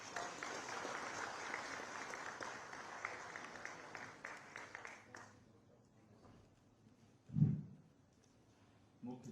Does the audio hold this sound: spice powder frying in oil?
no